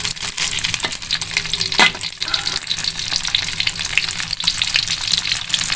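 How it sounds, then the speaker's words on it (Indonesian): Cut fish pieces fry in hot oil in a home kitchen, giving a loud, continuous crackling sizzle with sharp pops and spatters throughout, and no one talking. "minyaknya sudah panas ya guys nih. Masukkan ikannya ya guys."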